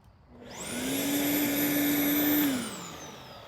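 A Sun Joe AJ801E electric lawn scarifier spins up to a steady high-pitched whining hum with a droning motor tone, holds for about two seconds, then winds down.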